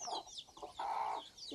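A hen clucks in short, quiet phrases nearby, a few soft broken calls with brief pauses between them and light chirps around them.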